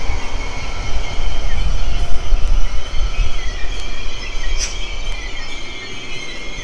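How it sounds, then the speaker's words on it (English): A regional train rumbles steadily at a central station platform, with continuous low mechanical noise and high metallic wheel squeals rising briefly over it. "There's a regional train on platform 4."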